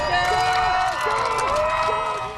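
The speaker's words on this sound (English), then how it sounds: "The crowd cheered as Atlantis cleared its last hurdle before launch" Crowd cheering and whooping at the final launch of Space Shuttle Atlantis at Kennedy Space Center, a lively mass of voices with excited shouts rising over a steady murmur.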